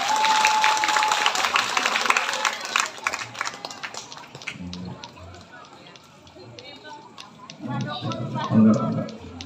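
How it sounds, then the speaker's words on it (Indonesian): Applause rises from the audience at a Maulid Nabi religious gathering in a mosque, dense clapping for the first few seconds before thinning into scattered claps under talk and crowd noise. "Tepuk tangan dulu,"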